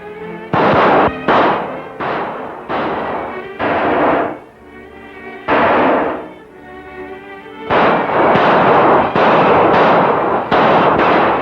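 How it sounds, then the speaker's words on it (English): Gunfire crackles through a western town in a rapid series of loud, sharp bursts, some clustered close together and others spaced by short pauses, like a volley of shots ringing out nearby. "they're shooting up the whole west end of town"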